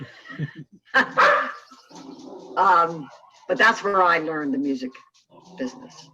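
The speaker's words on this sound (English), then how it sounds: "excuse my dog barking" A dog barks a few times, sharp and fairly close, under and between a person's steady speech indoors.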